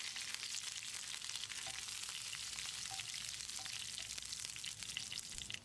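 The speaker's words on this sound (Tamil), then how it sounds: "2 கொத்து கருவேப்பிலை, 2 வரமிளகாயை கிள்ளி போட்டுக்கலாம். ஒரு 10 செகண்ட் இதை பிரட்டி விட்டுறலாம்." Curry leaves and broken dried red chillies fry in hot oil in a pan, a steady, fairly quiet sizzle with fine crackling throughout and no talking.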